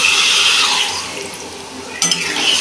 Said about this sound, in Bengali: আমি এইটুকু জল দিয়েছি